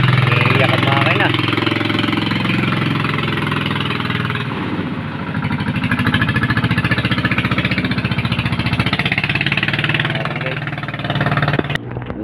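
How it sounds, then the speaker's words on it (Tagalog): A fishing boat's engine labours and whines at a steady loud pitch as the boat pushes through thick water lilies on a river, with people talking over the drone. "umiiyak ang makina"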